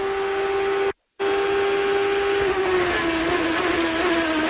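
A 2007 Champ Car race car on a lap at Long Beach, its engine a loud, close, steady high-pitched drone that cuts out abruptly for a moment, then returns and slowly drops in pitch as the car slows into braking.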